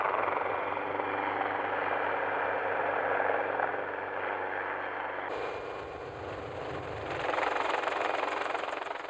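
Helicopter flying over outback cattle during a mustering operation, its steady rotor and engine drone loud and continuous, shifting in tone midway as the aircraft moves.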